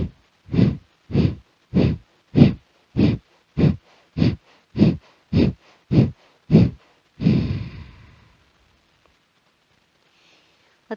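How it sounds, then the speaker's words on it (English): Pranayam breathing through the nose: about a dozen quick, forceful, evenly spaced breaths in a steady rhythm, then one longer exhale trailing into near silence, close and clear with no talking. "Breathing in and out through the nose."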